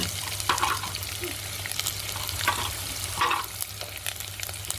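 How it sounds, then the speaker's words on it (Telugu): Onions, garlic and dried red chilies frying in oil over a wood-fired stove, a continuous crackling sizzle with intermittent stirring clatter, close and without talk. "ఉల్లిపాయలు వేసాను ఎల్లిపాయలు రెండు రెండు ఎండుమిరకాయలు"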